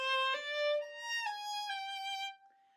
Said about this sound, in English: So in first position, they sound like this.